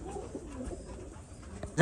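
Soft, low coos from Pakistani high-flying pigeons at a pigeon farm murmur faintly for a moment before a sudden loud noise cuts in at the end.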